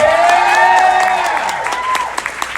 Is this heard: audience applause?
yes